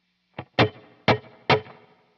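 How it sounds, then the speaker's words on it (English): Four sharp plucked guitar notes through a 1963 spring reverb unit, with a short, splashy reverb tail ringing briefly after each one, moderately loud with no voices. "That is a 63 spring reverb that I have on all the time."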